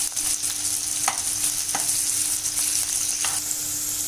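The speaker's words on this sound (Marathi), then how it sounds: "त्यात आपण चिरलेला कांदा टाकून घेतो." Sliced onion sautés over full heat in a pan with a constant close hiss and sizzle for a mushroom fry, with a few soft spatula scrapes and no talk.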